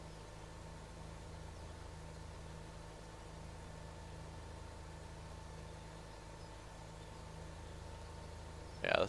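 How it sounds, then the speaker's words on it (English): Tractor engine idling in Farming Simulator 17, a faint steady low hum that runs evenly throughout, with a brief louder knock at the very end. "this is a pretty nice tractor though"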